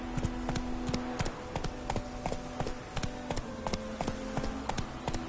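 Horse hooves clip-clop steadily in a video game, a brisk, even trotting rhythm of sharp taps repeating close by over ambient background with no talking.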